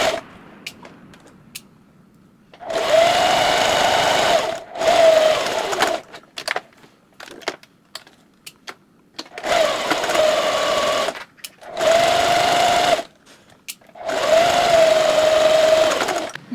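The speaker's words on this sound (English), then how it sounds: "I'm just gonna go through and sew them all in a batch." A sewing machine stitches hat pieces in several loud, whirring bursts of a few seconds each, separated by quiet pauses with small clicks and handling noises.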